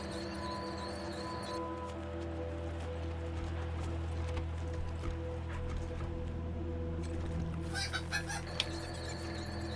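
Chickens cluck in the Wasteland 3 video game over a steady hum of game ambience and music, with scattered clucks and a brighter burst of sound near the end.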